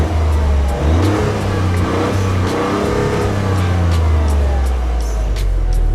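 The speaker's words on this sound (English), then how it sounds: "You listen to the exhaust outside, it sounds awful" A Toyota GR Yaris engine drones steadily and loudly, its low exhaust note rising and easing as the car drives on, with faint ticking and rumble layered over it.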